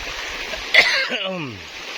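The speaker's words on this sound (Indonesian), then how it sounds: "Dah batuk-batuk saya" A single sharp cough breaks over steady rushing water, followed by a voice trailing off, all heard close up outdoors.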